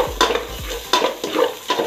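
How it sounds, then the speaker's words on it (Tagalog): Garlic sautés in a pan for Ilocano sinanglaw, a close, loud sizzle punctuated by rhythmic stirring strokes, scrapes and clinks of a utensil against the pan. "simulan na po natin ang pagigisa. Lahin po natin ang bawang."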